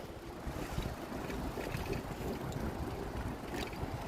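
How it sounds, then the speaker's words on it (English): Waves wash along the Lake Michigan shore in Chicago as a constant broadband roar mixed with wind buffeting the microphone, steady and moderately loud with no clear breaks. "All the waves here."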